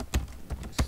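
A few scattered keystrokes tap on a computer keyboard, close and fairly quiet, as three or four separate clicks in under a second.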